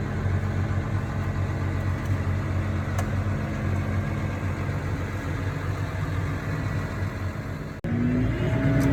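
Tractor engine droning steadily, heard from inside the cab during soybean planting; a constant low hum fills the space, with a brief dip and click near the end before the drone resumes.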